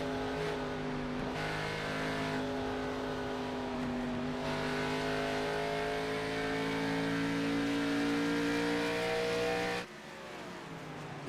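Race cars at Darlington racing past, a sustained loud engine roar with rising and falling pitch as cars pass close by, continuing for several seconds before dropping off near the end.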